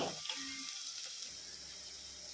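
Chopped onions hit hot oil in a pan for a taro root curry and give a bright, steady sizzle with a brief stirring scrape near the start. The frying hiss stays close and continuous.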